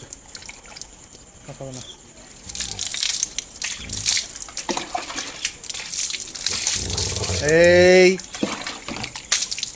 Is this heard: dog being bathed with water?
yes